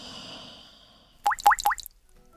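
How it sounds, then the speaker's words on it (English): Water drips from a bathroom faucet in four quick plopping drops close together, following a quieter stretch of low room noise. "Does your bathroom faucet drip?"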